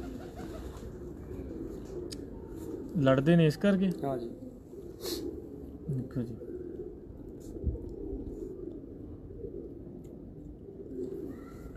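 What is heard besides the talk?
pigeons cooing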